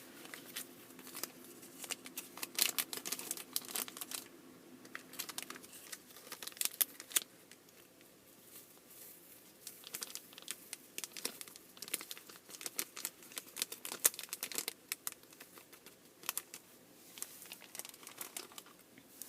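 A plastic bag crinkles and rustles up close while being filled with powder for DIY Kracie candy, in repeated bursts of handling, loud crackles interspersed with quieter pauses.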